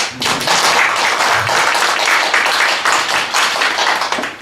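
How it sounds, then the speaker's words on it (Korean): An audience claps steadily and loudly throughout at a Korean youth forum hall, dense applause with no talk over it, fading slightly at the end. "박수 한번 쳐주십시오"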